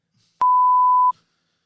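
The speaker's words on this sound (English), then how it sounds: "Beep that out if we need to" A single steady censor bleep, loud and clean, holds one tone for about three quarters of a second over otherwise near-silent speech.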